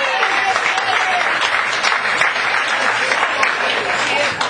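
An audience at a comedy show applauds the chef, a dense, sustained burst of clapping that holds at a loud level throughout with a few cheers mixed in.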